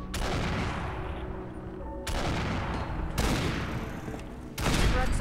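Gunfire from a weapon in Fallout 4 rings out as four loud, sharp shots spaced roughly a second apart, each followed by a short echoing tail over a steady noisy background.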